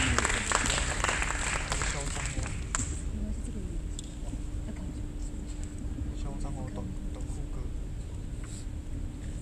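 An audience at a college acoustic guitar concert in a university auditorium claps for the next act, with a brief burst of applause at the start that fades as a voice begins talking over the room.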